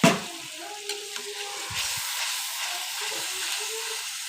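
Onion paste and cumin paste frying with tomato in a pan, stirred with a spatula: a soft continuous sizzle with scraping strokes, after a sharp knock at the start.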